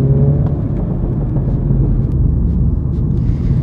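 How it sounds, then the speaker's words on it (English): A steady four-cylinder Mini John Cooper Works engine drone, low and rumbling, holding an even idle-like tone throughout with a faint whir above it. "Still sounds like a four-cylinder, at least."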